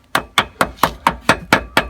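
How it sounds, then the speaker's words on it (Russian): Eight evenly spaced hammer taps ring out close and clear around the rim of a hub cap on a ZAZ Tavria or Slavuta rear wheel, seating it into place in a quick, steady rhythm. "Стукиваниями молотком по периметру"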